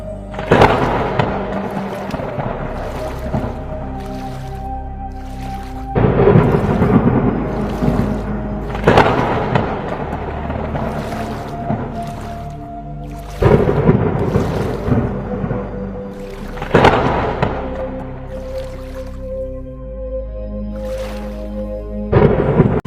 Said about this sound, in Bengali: নৌকা ঘোরাও, খুব জোর ঝড় আসবে